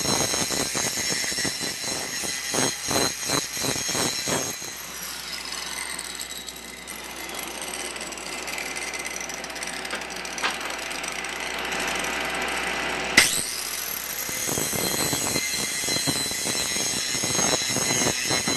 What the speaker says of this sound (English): Now's a good time to take your angle grinder and put a nice bevel on these edges.